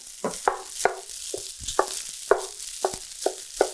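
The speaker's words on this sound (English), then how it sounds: "So our rice is going to go right in." Rice goes into a hot pan for sweet and savory fried rice, with a soft sizzle under a series of sharp scraping and tapping hits from a utensil at an irregular rhythm. No voice is heard.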